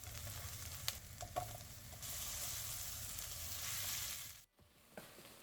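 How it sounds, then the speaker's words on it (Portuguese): Diced onion, garlic and cubed tomato sautéing in olive oil in a pan, a loud, steady sizzle with a few stirring clicks and a brief break near the end, no talking. "Agora eu vou refogar esses ingredientes aqui."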